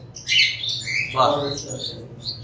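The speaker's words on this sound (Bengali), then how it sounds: "সব রকমের পাখি ভাইয়ের কাছে আছে" Exotic birds in an aviary in Dhaka, Bangladesh, squawk and chirp in several harsh, shrill bursts, fairly close, with a low background hum beneath.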